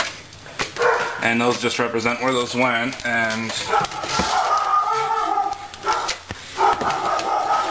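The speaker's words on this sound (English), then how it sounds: "sorry about the dog" A dog barks repeatedly in a quick burst in the middle, loud and close, while a person talks over it.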